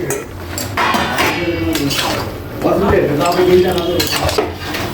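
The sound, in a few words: lentil dumplings (bori) added to a cooking pot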